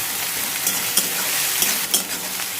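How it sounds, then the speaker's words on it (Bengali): Onion and black cumin stirred in hot oil in a pan, a continuous close sizzle broken by a few sharp scraping strokes of the spoon. "পেঁয়াজটা একটু হালকা করে নেড়ে নেব, খুব বেশি ভাজবো না।"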